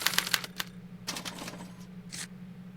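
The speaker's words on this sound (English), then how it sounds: "they're relayed to this special typewriter, which prints out a punch card that represents the subject's mind map" Mechanical typewriter in the Back to the Future video game clattering through a run of quick sharp key strikes that punch out a card, in bursts over a steady low machine hum, with no talk.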